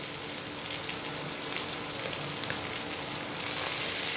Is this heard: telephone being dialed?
no